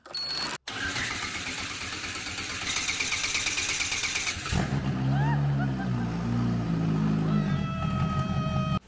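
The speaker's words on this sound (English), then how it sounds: "hearing this engine run for the first time" Engine of a large homemade snow blower built on a military truck cranks with a whirring starter, then catches and settles into a loud, steady, close running drone with shifting pitch.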